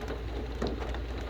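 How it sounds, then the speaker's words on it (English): Rain falls in a steady, even hiss throughout a short moment outdoors, with no talking. "Got a little rain."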